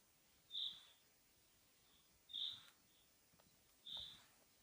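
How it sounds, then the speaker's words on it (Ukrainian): Three short, clear bird calls repeat at roughly even intervals in a quiet forest, each a brief high whistle-like note with soft background hiss. "Пташечки співають."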